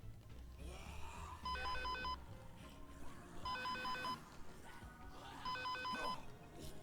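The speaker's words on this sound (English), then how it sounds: "You're ringing." A telephone rings three times at an even pace during a gaming livestream, each ring a bright electronic trill that sits over low background noise and faint room sound.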